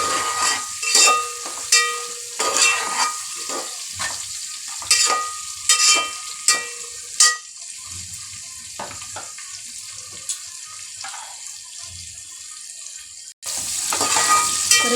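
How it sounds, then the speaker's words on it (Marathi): Tomato sautéing in a pan: a close, loud sizzle broken by a series of spoon-stirring scrapes, quieter bubbling in the middle, then a louder burst of frying at the end; no talk. "टोमॅटो पण चांगला परतून घ्यायचा आपल्याला"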